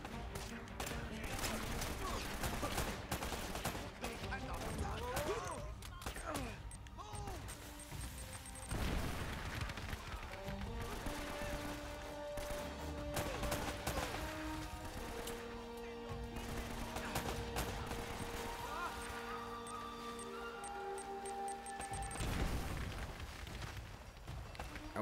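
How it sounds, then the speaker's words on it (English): Gunfire crackles through a firefight in Uncharted: Drake's Fortune during a swimming section, with scattered shots over a steady bed of game music and ambience, moderately loud throughout. "I've got to swim while being shot at."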